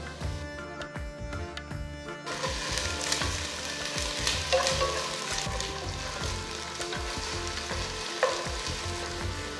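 Ginger garlic paste hits golden-fried onions in a hot pan, giving a loud, steady sizzle with spatula stirring scrapes throughout; the frying is sharper at first, then stays dense and continuous.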